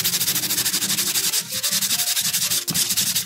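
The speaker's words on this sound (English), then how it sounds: "just sandpaper them off" Sandpaper rubbing dried paint off a painting in fast, steady back-and-forth strokes, close and loud, with a brief pause partway through.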